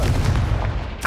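Confringo fire spell blast in the Hogwarts Legacy video game: a deep, booming explosive burst with heavy low rumble lasting about a second, ending as a voice begins.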